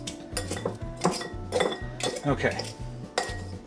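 A metal utensil chops ground beef on a Smokeware flat cap griddle, giving a run of close, rhythmic clinks and scrapes at about three per second. One short spoken word is heard over it.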